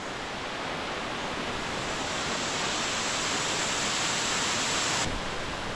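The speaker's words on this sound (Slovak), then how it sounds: "Vo vodopade sa dá kúpať, takže David ide skúsiť, aká je voda." A waterfall of clear, cold drinking water in Africa pours in a dense, continuous broadband roar, close and steady throughout with no voices.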